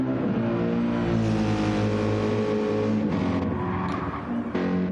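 Race car engine in a Goodwood racing video game, held at a loud steady drone with shifting pitch as it works through a chicane, dipping briefly near the end; no talk.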